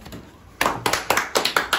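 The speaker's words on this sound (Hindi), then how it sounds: "खुद ताली बजा रहा, देखो खुद ताली बजा रहा है।" A boy claps his hands in a few separate close bursts of sharp slaps, spaced roughly evenly after a quiet moment, with faint talk in the background.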